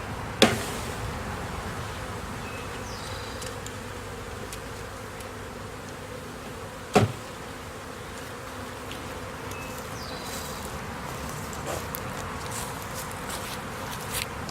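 Package bees hum in a steady, faint, close drone while their hive boxes are opened and worked, with two sharp knocks standing out early and midway.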